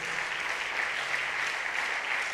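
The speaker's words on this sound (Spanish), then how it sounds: "Yo creo que el Señor merece un fuerte aplauso." A church congregation claps together in steady, dense applause, a continuous crackling wash of many hands heard close and evenly throughout, with no voices standing out.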